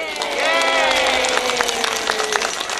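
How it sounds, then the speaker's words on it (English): A brief patter of clapping rises under a voice cheering, short and fairly close. "Give yourself a round of applause."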